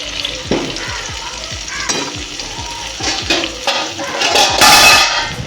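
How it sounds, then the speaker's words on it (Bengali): Potato pieces seasoned with salt and turmeric fry in a pan, giving a close, steady sizzle broken by clinks and scrapes of stirring, with no voices. "আলুটা আগেই কেটে নুন হলুদ দিয়ে ভাজা করতে বসিয়ে দিচ্ছি"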